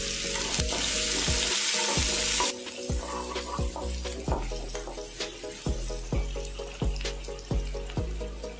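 Cut onions go into hot oil with curry leaves in a pan while okra fry is being prepared. A bright, steady sizzle is joined by rhythmic scraping stir strokes up close, with no speech.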